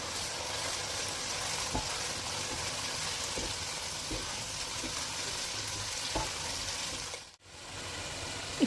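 Onion paste and spices for beef vuna sizzle and fry steadily in a pan, a continuous close crackle broken by periodic stirring knocks and a brief pause, with no talk.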